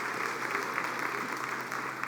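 A crowd applauds for Brad at an honoree's speech, steady, even clapping from many hands sustained throughout.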